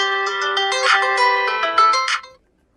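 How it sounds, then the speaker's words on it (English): Pre-installed ringtone on a DOOGEE T40 Pro phone plays a loud, bright melodic chime sequence of several quick notes, close and clear, then stops abruptly into silence. "if you wish to listen how the particular ringtone sounds"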